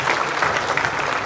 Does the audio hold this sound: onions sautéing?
no